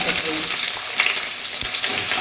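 Two large onions sizzle and crackle loudly in hot oil for a potato and peas curry, a continuous close frying hiss with occasional stirring scrapes.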